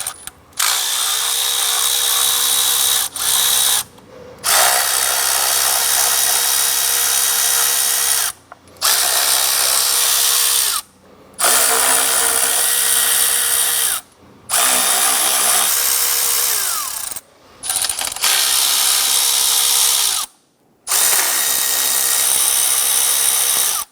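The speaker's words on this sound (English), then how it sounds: "Using a 5/16 socket and extension, we're going to go ahead and loosen the 8 bolts on our lower intake." A power driver with a 5/16 socket and extension loosens the lower intake bolts on a 3.6L V6 Jeep Grand Cherokee, loud whirring bursts of several seconds each separated by short silences, about eight runs in all.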